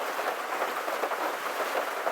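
Steady rain drums on a tin roof over a back porch while wind blows, a dense, continuous hiss with a close, even patter and no voices.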